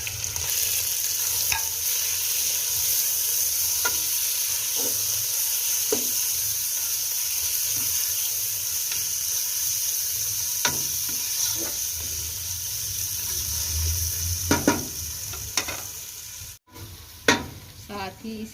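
Half a kilo of minced keema hits a pan of light-browned onions and sizzles steadily, with frequent spatula stirring clicks and scrapes, louder toward the end, close and without speech.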